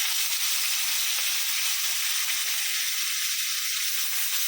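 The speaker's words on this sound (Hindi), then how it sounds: "अभी इसमें मच्छी फ्राई करेंगे" Bangda fish frying in very hot oil, a dense continuous sizzle and hiss held close and steady for a few seconds, with no talking.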